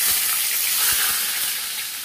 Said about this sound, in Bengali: বেশ গরম হয়ে গেছে, ধোয়া উঠছে, এবার আমি মাছ ছেড়ে দিচ্ছি।